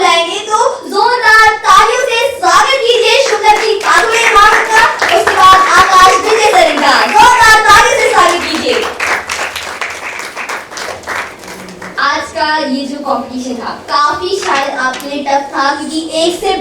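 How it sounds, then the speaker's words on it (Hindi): Audience applause and clapping welcoming the judges at a dance competition finale, a loud, dense wash of hands sustained across the crowd with announcer speech over it at times. "तो जोरदार तालियों से स्वागत कीजिए"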